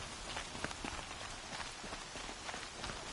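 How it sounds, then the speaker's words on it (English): Rain falling in a Horizon game, a dense steady patter of drops across the whole stretch, soft and even with faint scattered ticks, no voices. "Everything's sharp and looming in the rain."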